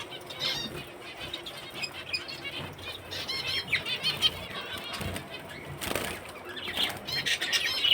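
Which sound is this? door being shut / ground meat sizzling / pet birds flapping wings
pet birds flapping wings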